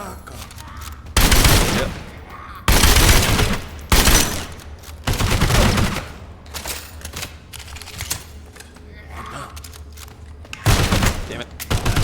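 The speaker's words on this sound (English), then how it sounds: "Someone's trying to shoot me then." Gunfire from a video game with a rifle: several loud, dense bursts of rapid shots separated by quieter gaps, with a voice speaking briefly between them.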